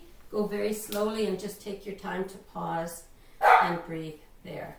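A bossy pet dog at home during a beginner hatha yoga class lets out several short, close barks and yips mixed with the instructor's calm spoken guidance.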